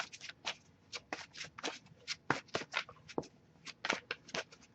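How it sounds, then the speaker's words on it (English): Cards are shuffled repeatedly in quick, crisp riffling bursts, close by and moderately quiet, with short pauses between them. "I will give it a few more shuffles before we move on."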